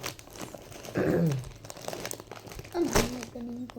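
An Amazon parcel package being opened by hand, with plastic and cardboard crinkling and tearing in short bursts, close up, while a person talks over it.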